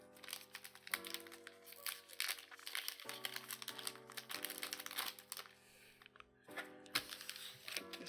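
Crinkling foil as a Dragon Ball Super card pack is torn open and handled, giving close, busy rustles and crackles that come in several bursts, faint overall and with no one talking.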